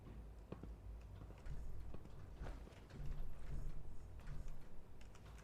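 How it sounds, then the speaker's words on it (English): Footsteps echo faintly in the Fallout 4 game world, a scatter of quiet irregular steps and light clanks over low background ambience, with no talking. "I hear footsteps everywhere"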